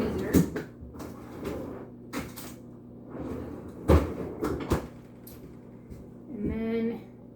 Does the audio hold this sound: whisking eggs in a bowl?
no